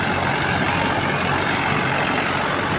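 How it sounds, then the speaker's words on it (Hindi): A tractor ploughing a village field gives off a continuous loud, dense engine roar with a broad steady rumble, heard up close and unbroken throughout. "ये ट्रैक्टर कितनी बढ़िया तरीके से शेर के तरीके से धाड़ता है"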